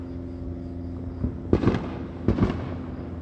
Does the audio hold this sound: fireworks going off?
yes